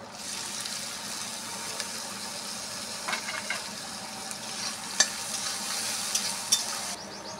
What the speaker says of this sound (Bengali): এবার আমি নারকোলটা ভাজা করব।